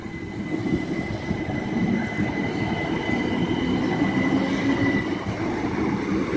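A Southeastern Class 375 electric train pulls away from Platform 2 at Deal station, a steady rolling rumble of wheels with a faint high whine and occasional squeal, heard from the platform without speech.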